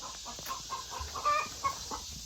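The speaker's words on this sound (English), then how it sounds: "That thing that was making that really crazy noise, that was a guinea." Close, harsh guinea fowl calls in a rapid, repeated cackling rhythm, loud against a steady hiss of background noise.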